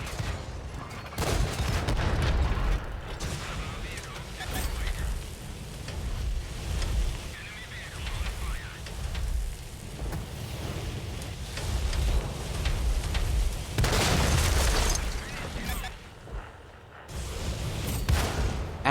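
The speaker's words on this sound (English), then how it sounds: "what you are about to see is how fast the reload speed is in this tank, and how fun it is to play, especially with the flamethrower" Churchill OKE tank flamethrower firing in World of Tanks on console, a continuous roaring rush with bursts that swell and ease over nearly twenty seconds, loud and unbroken, with no talk over it.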